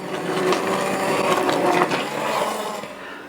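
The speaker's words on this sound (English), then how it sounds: "And now, with our trusty immersion blender" Continuous whirring of an immersion blender pureeing butternut squash soup, loud and close, with a grinding, sloshing texture.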